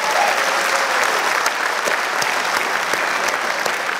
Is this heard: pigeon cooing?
no